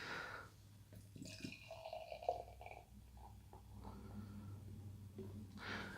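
Trillium Pocket Pigeon pale ale is poured from its can into a Trillium glass, a faint gurgling, trickling splash of liquid heard close by in a quiet room.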